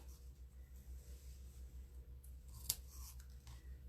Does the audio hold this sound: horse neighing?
no